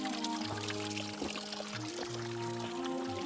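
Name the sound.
spring water flowing in Kashmir forest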